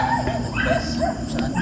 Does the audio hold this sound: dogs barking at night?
yes